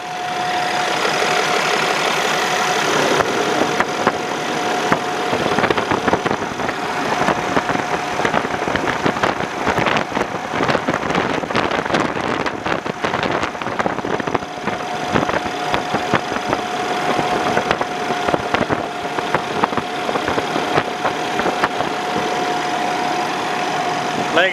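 A red 2015 Kenworth T880 day cab truck with an automatic transmission and 570,000 miles sits idling. Its engine gives off a loud, steady diesel rumble with a rough knocking texture, close and continuous with no talk over it.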